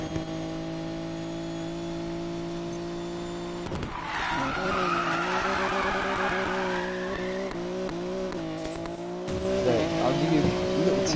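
Race car driving and skidding in a Fast and Furious style racing video game, a steady engine drone joined midway by loud tire squeal and skid noise with shifting engine pitch, fairly quiet overall.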